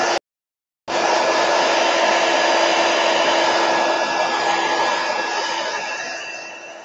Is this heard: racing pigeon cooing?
no